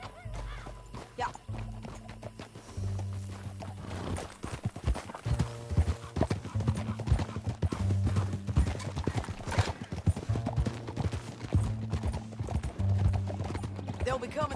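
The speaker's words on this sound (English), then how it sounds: "Back on your horse, let's get after them." Horse hooves galloping in Red Dead Redemption 2, a dense, rapid clip-clop rhythm that runs steadily throughout, with occasional snorts and whinnies, while voices talk and a low musical score plays underneath.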